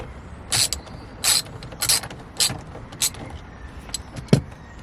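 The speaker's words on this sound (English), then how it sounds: "try to remove this 16mm bolt with this breaker bar" A breaker bar works a stubborn 16mm bolt inside a BMW M340i, producing six or so sharp ratcheting clicks and creaks at an uneven rhythm over a low background hum.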